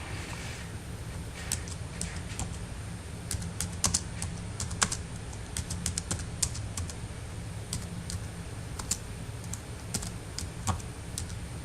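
Fingers tap steadily on a computer keyboard, a stream of light irregular clicks over a faint low background hum.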